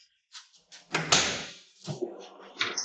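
A door opens indoors with a few soft knocks and handling clicks, then a broad creaking, rattling sweep as it swings, fading into shuffling movement close by.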